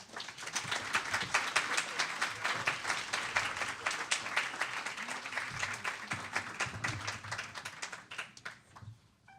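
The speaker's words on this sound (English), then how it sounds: "another round of applause" A symposium audience gives sustained applause: dense, rapid clapping from many hands that stays strong for several seconds before thinning out and fading near the end.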